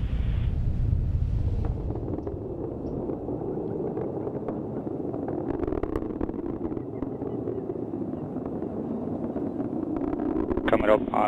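An Atlas V rocket engine roars during launch ascent as a continuous, distant, rumbling wash of sound that stays steady under a running commentary voice.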